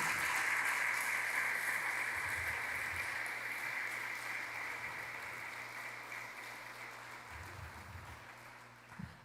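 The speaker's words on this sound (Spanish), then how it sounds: "Dios lo levantó como Salvador y aplauda a Jesús por eso." A church congregation at a Sunday service applauds, a faint, steady wash of clapping that slowly fades toward the end, heard from a distance with a low hum underneath.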